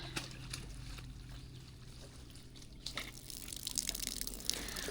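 Water running steadily from a backcountry water filter, a soft continuous trickling flow that grows a little stronger toward the end, heard close up with no speech.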